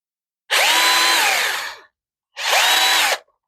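A power drill runs in two bursts, one long and one shorter, its whining motor pitch rising and falling as it backs screws out of a Gateway computer case, close and loud against silence.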